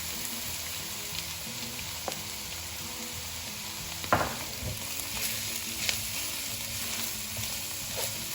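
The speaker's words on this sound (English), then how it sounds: "Just stir fry until your shrimps are almost fully cooked through" Shrimp and crab meat stir-frying in a pan give a steady close sizzle, broken now and then by louder scrapes and clatters as the pieces are tossed.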